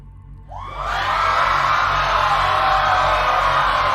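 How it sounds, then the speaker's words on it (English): A large crowd cheers and roars continuously, swelling in after a brief quiet start into a loud, sustained wall of whoops and shouts with no break. "The crowd is cheering"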